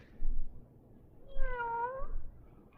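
A single cat meow, clear and drawn out with a rising then falling tone, heard close by over a low background hum, preceded by faint rustling.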